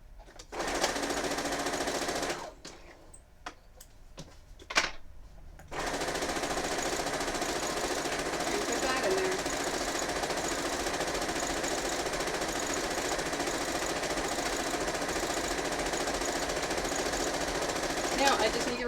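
A sewing machine stitches a quilt strip in long steady runs, loud and close, broken by a short pause with a few clicks before the continuous whir resumes.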